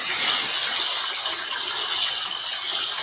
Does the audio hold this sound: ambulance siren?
no